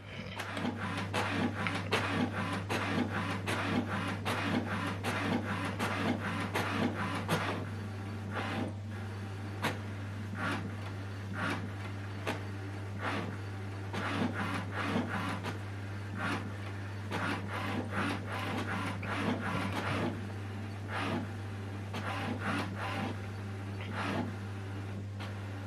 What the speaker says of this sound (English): it will start to print alignment paper